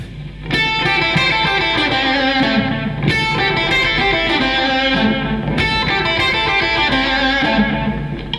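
A distorted electric guitar plays a repeating riff, loud and close, cycling through the same phrase about every two and a half seconds.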